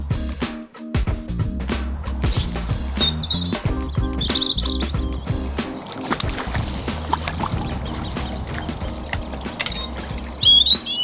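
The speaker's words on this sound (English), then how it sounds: "Ducks." Ducks call with short scattered chirps and quacks across a lake during a fishing trip, heard over gentle water sloshing and knocking around a small boat, with no one speaking.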